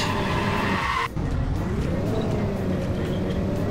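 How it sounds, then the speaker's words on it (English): Car doing donuts in the Minecraft video game, a loud engine drone followed by a sweeping tire skid and squeal that rises and falls as the car spins, close and continuous, with no talk. "Doing donuts in a Minecraft car!"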